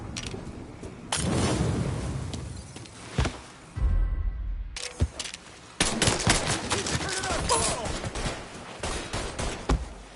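Heavy gunfire from a firefight in Mafia III, with bursts of rapid automatic shots and sharp single cracks, broken by a brief near-silent gap before the shooting resumes at full loudness, with shouted voices mixed in.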